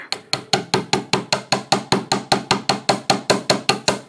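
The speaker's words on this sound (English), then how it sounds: "so I'm going to hammer" Sharp metallic hammer strikes on heavy gauge wire for a bracelet land in a fast, even rhythm, about twenty blows in quick succession, close and loud.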